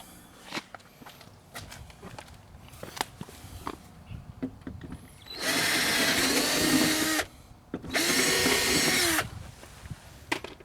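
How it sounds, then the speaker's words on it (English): Two loud bursts of a power drill whirring nearby while replacing a fridge vent cover, each lasting about two seconds, between scattered footsteps and light handling knocks. "I'm just going to have to grab the drill"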